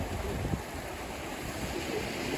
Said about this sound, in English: listening to the waves, same as I am